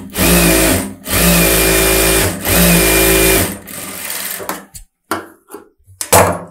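Sewing machine stitching a blouse lining in a tailoring lesson, running loud and close in three steady bursts with brief stops between them, followed by quieter handling noises.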